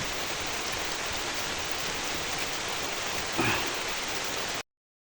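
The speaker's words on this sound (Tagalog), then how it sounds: "umuulan pa dito mga idol, no?" Steady rain pours down in a dense, even hiss, loud and close, with a brief brighter splash partway through before cutting out.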